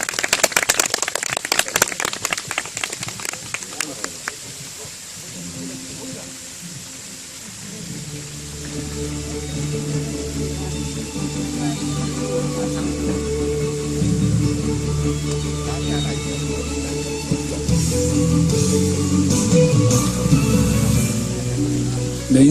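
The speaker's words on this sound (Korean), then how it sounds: "큰 박수로 환영해" An audience at a lecture hall gives a burst of clapping to welcome a speaker, dense and lively for the first few seconds before fading. Sustained tones and ambient hall sound take over afterward.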